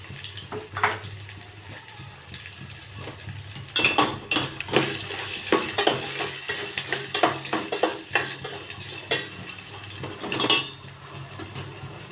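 A spoon scrapes and clatters against a pan while potato fry is mixed with salt and turmeric, giving irregular metallic knocks over a soft sizzle, close and fairly loud, with no talk.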